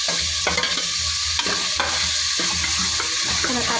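Tomato and onion sautéing in a pan for a beef gravy, with a continuous loud sizzle and regular scraping stirs of a spoon, heard up close and with no voices.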